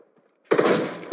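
A gunshot for a headshot in PUBG Mobile bursts out sharply and loudly after a moment of near silence, then decays, with another sharp hit at the very end.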